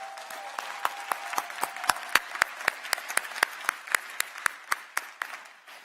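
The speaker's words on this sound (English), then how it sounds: "Please give my staff a round of applause." School audience applauding staff at Edmondson Westside High School, a sparse, loud, evenly spaced run of individual claps, close and crisp, with a brief voice at the start.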